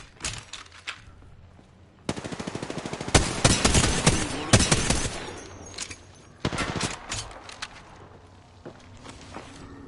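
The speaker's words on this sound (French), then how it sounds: "Je suis sous les tirs." Automatic gunfire from the video game Apex Legends, rapid bursts of shots that start abruptly and swell into loud, dense volleys, with shorter bursts trailing off near the end.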